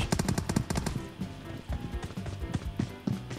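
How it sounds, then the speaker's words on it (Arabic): Rapid bursts of video game gunfire rattle in quick rhythmic volleys, loud and dense through the whole stretch, with a busy game soundscape behind the shots. "ثلاث طلقات يا عزو ثلاث طلقات"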